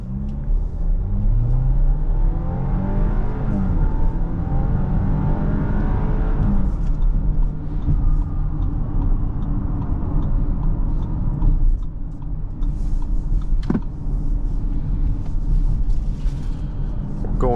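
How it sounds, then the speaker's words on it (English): Steady cabin rumble and road noise from a 2025 Audi Q7 45 TFSI cruising on the freeway, with a continuous low engine drone and tire roar heard from inside throughout. "now let's proceed back to the freeway and do some freeway driving."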